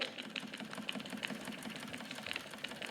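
A Wilesco D455 toy steam engine runs steadily, giving a close, continuous mechanical chuffing and clattering with a regular rhythmic beat and faint hiss, no voices.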